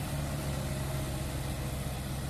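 A diesel tractor engine idling in a farm field with a steady low throb and hum, continuous and close, no voices.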